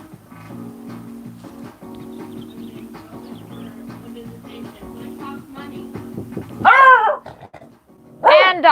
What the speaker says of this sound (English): Hush, doggy!